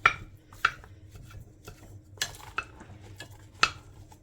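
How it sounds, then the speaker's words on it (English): Seasoned mince being broken up and stirred in a pot, soft scraping with a few sharp utensil knocks against the pot, close and quiet, no talking. "I'm just going to break the mince up a bit and get it all mixed through."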